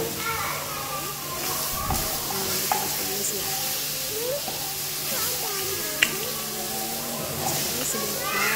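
Chicken stir-fries in a pan with Raja Rasa sauce, cooked without frying oil, making a steady close sizzle and hiss with occasional scrapes and clinks of stirring, while voices chatter in the background.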